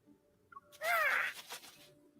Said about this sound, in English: I hear a crow in the distance.